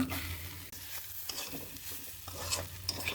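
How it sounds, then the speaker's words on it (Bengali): Mashed potato filling with cumin and coriander powder is stirred in a hot pan, a steady scraping under a soft, constant sizzle, close and without speech. "সব মিক্স করে নেব"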